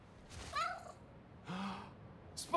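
A cat in the Spider-Man: Miles Morales video game gives a few soft, separate meows, quiet and spaced out over a couple of seconds.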